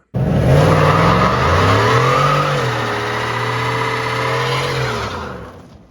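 A 2015-2026 Ford F-150 with an open differential revs hard while one tire spins, a loud sustained engine roar that wavers in pitch and fades slightly near the end, with no voices.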